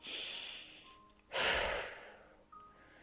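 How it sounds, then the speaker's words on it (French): Deep, forceful breaths during a sophrology relaxation exercise: a breathy rush, then a louder strong exhalation at the center, followed by a softer breath, close and alone without talk. "Inspirez profondément pour vous dynamiser et soufflez fortement."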